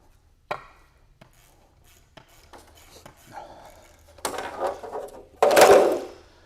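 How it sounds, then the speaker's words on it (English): A bolt is undone and the universal blade-holder arm of a power trowel refinement system is flipped over. Sparse close clicks and scrapes build to a loud metallic clunk near the end. "you just undo the bolt right here and flip it over to this side"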